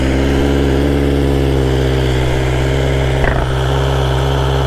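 A BMW S 1000 XR motorcycle fitted with an Akrapovic exhaust runs at a steady, loud idle, a constant low rumble with a brief blip partway through and no talk.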